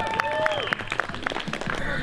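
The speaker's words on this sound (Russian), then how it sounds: "Молодец, аплодисменты, участник." Spectators at a scooter competition clap for a rider, a scattered patter of hands mixed with chatter, whistles and a squeaky high tone, fairly quiet and brief.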